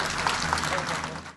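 An audience at an audio launch applauds the music composer, with dense, steady clapping filling the hall and fading out at the end.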